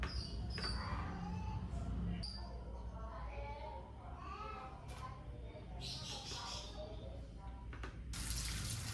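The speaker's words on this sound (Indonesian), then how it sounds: "Nah ini untuk tempenya aku kasih air ya teman-teman." Tap water runs onto tempeh in a home kitchen, a continuous splashing stream with faint clinks, while someone talks over it.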